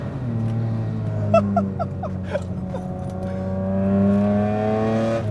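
A BMW E30 with a swapped-in naturally aspirated Euro S50 engine and lightweight flywheel revs while driving, its loud, steady engine drone rising and falling through a quick blip, close and alone.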